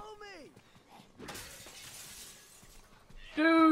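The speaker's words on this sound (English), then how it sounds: "you just broke my glass!" Glass shattering in the Dead Rising video game, a loud crash followed by about two seconds of scattering, tinkling shards, with voices talking just before and right after.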